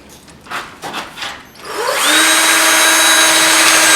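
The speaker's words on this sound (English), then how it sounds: "That drilled a hole in sideways." A power drill bores sideways through wood on a brick wall capping project, starting after a few brief knocks and then whining loudly and steadily as the bit spins through the wood.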